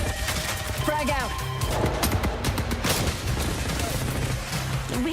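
Rapid bursts of gunfire and a frag grenade blast rattle through an Apex Legends firefight, loud and dense throughout with a voice talking faintly beneath the shooting.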